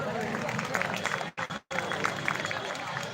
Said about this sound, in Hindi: एक बार उन सभी साथियों के लिए, माता बहनों के लिए जोरदार ताली बजाओ।